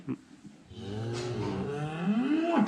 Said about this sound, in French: elle appelle son veau